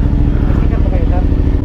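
A Honda Africa Twin motorcycle engine idles steadily with a low, even rumble, running throughout at close range while a voice talks over it.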